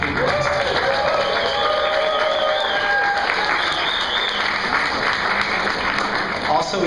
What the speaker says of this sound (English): Can we just applaud my team, please?